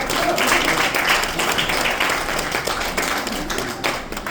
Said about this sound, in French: On applaudit pour cette collaboration.